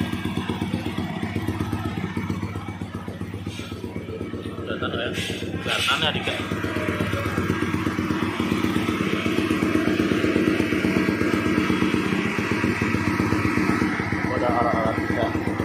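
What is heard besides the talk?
Yamaha N-MAX 200cc scooter engine running on a dyno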